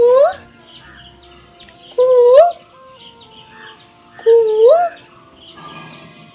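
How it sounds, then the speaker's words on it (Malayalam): Asian koel calling outdoors near a house under construction, three loud rising whistled calls repeating every couple of seconds, with fainter bird chirps and some background noise between them. "കണ്ടോ, കുയിൽ കരയുന്ന സൗണ്ട് കേട്ടോ."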